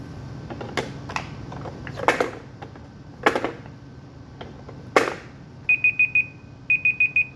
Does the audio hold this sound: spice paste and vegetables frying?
no